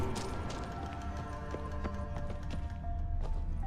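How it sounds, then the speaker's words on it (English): Horse hooves clip-clopping in The Witcher 3, a steady rhythmic patter of hoofbeats set low under game music and ambient sound, moderately near. "Another horse. Almost exactly like the last one."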